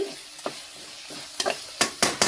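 Masala and rock salt being stirred in a pan for mutton biryani, with a soft sizzle beneath and several sharp scraping strokes of a spoon that grow louder and quicker toward the end.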